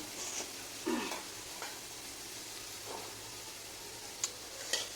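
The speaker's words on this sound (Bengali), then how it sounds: "পেঁয়াজ কুচিটা দিয়ে দিয়েছিলাম গরম তেলে তো এবার আমি এটাকে খুব ভালো করে লাল করে ভাজব" Chopped onions frying in hot oil for a rohu fish curry give a faint, steady sizzle, with a few soft clinks and stirring scrapes from a utensil in the pan.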